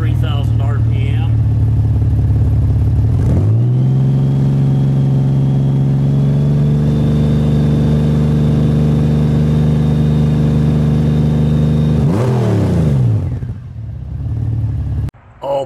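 Exhaust of a Honda Goldwing GL1800 with its 1/8 inch plugs removed, held steady at 3000 RPM. The note is a loud, close, continuous drone that settles after the rev rise, then drops back as the throttle closes.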